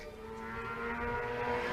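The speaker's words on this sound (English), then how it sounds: "as the motorcycles rip past" Motorcycles ripping past at an outdoor venue, heard as a steady, loud, rising engine drone that builds over a couple of seconds, with no voices over it.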